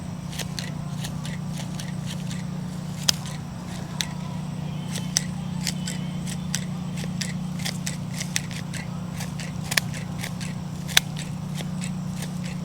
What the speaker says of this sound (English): A little bit more pruning on this one than the other one.